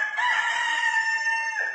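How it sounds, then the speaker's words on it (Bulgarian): A rooster's cock-a-doodle-doo sounds as a hotel wake-up alarm in a video game, one loud, close, sustained crow that trails off near the end, with no talk over it. "Аларма. Петел."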